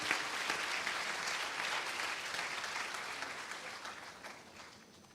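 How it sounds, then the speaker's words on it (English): Applause fills a hall at an award ceremony, dense and steady from start to finish before gradually thinning toward the end. "please give a huge round of applause for each and every one of you present here."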